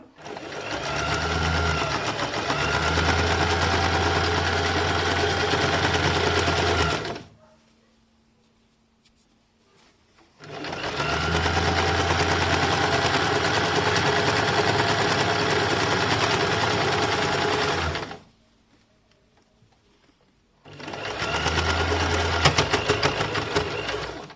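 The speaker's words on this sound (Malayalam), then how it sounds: "നമുക്കിത് പെട്ടെന്ന് സ്റ്റിച്ച് ചെയ്തെടുക്കാൻ പറ്റും" Sewing machine stitching a laptop mat made from old clothes. It runs in three loud, close bursts of fast, steady whirring and clatter, with short quiet pauses between them.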